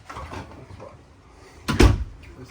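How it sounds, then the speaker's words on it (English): Soft-close cabinet door in a luxury toy hauler RV, a 2023 Riverstone Legacy 45 BATH, gives a single muffled close thump near the end after a quiet stretch of room noise. "Soft closed doors."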